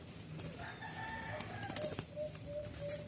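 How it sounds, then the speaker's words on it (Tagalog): Several bird calls, short tonal chirps and whistles, ring out in an outdoor setting where a bird has perched low while hunting birds, moderately near over a steady hiss of background noise. "humuhuni"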